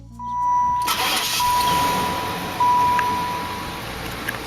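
A 1992 Buick Roadmaster with the LT1 V8 cranks and catches, then settles into a steady, loud running rumble close by, with a faint thin tone audible at the start.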